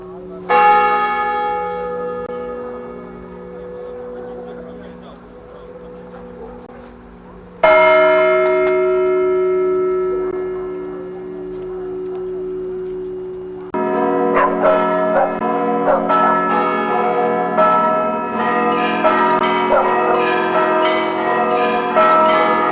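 Church bells peal at midnight at an Orthodox church, a ringing run of overlapping strokes that starts as slow, resonant tolls and turns into a busy, bright chime toward the end, with a dog barking faintly now and then.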